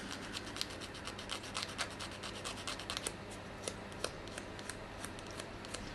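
Steady fine rasping and rubbing of sandpaper against small hard guitar inlay pieces, continuous with light irregular scratchy strokes, fairly quiet and close.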